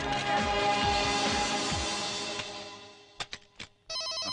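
A telephone rings loudly with a sustained electronic tone, then breaks into a few short bursts before the ring resumes.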